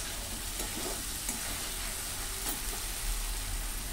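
Water added to a pan of frying octopus and potatoes, a loud constant sizzle and bubbling hiss filling the whole stretch, with faint stirring clicks and no voices.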